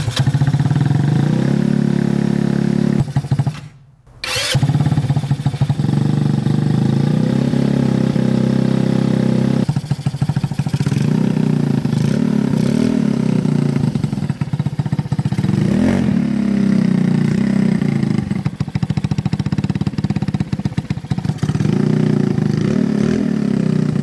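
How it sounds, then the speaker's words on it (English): Honda Ruckus scooter fitted with a 150cc GY6 engine running steadily close by, a continuous mid-pitched motor drone with small revving swells and one brief cut-out early on, no talking. "Gonna roll it out, get the ruckus started up."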